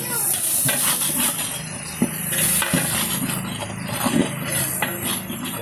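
Onions frying in a pan with about one and a half litres of oil, a steady loud sizzling hiss with small knocks and stirring clatters scattered through it.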